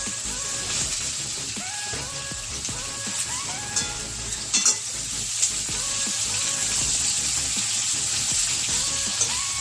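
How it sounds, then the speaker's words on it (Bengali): Jackfruit pieces frying in a pan with diced potato, a steady close sizzle running throughout with a few brief clatters of utensil on pan, and no talking. "আমি এই যে এঁচোড়গুলো দিয়ে একবারে একটু ভেজে নেব"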